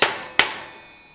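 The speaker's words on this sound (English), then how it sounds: "I'm going to hammer it out somehow" Two sharp metallic hammer strikes ring out a fraction of a second apart as a part is knocked out of a Stihl string trimmer head in a metal-filled shop, each hit leaving a short ringing decay.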